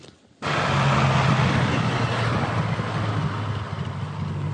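After a brief quiet moment, a soldiers' private car drives in wartime Ukraine, its engine and road noise rising and rolling steadily onward, a broad continuous rumble close by.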